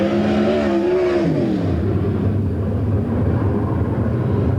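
A non-wing sprint car roars through a lap at Lincoln Speedway, its loud engine note dropping in pitch as it sweeps past and then holding a steady, sustained drone.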